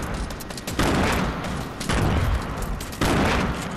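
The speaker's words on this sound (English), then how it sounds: "I think someone else is shooting at us." Heavy Fortnite gunfire hits hard in three dense, loud bursts, each starting abruptly and holding for about a second, close up with no voices.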